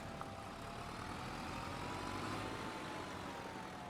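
A tractor engine in Farming Simulator 25 runs at a steady, low, droning idle with constant rumble, close and continuous with no talk.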